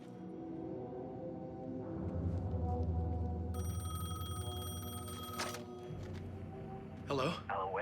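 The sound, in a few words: telephone ringing in Alan Wake 2 video game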